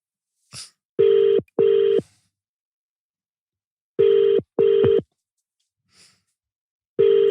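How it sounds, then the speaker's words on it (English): Outgoing phone call ringback tone: paired electronic rings repeating in a steady pattern with silent gaps between them, clear and close, with a couple of faint brief noises in the pauses. "Let me see if this guy answers his phone."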